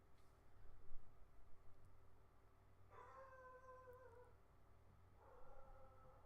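A pet cat called the kitty alarm system sets off a long wavering howl-like yowl in the middle, then a shorter whining cry toward the end, heard against steady low background hum.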